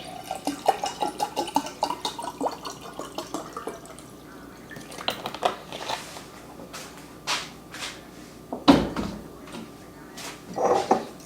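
Apple cider vinegar with the mother and water poured into a glass at home in Bermuda, with trickling and dripping splashes among scattered small clatters, close by and fairly quiet.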